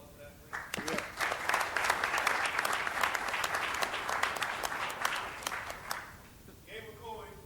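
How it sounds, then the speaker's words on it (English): An audience at a senior enlisted leadership session bursts into loud, sustained applause for several seconds, a dense crowd of clapping that fades out near the end, followed by a brief voice. "so round of applause for that, please"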